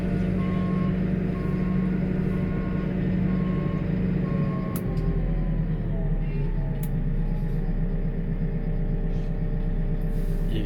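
A JCB machine sounds a loud, steady reversing alarm with evenly spaced beeps over a droning diesel engine, and the beeping stops partway through while the engine keeps running.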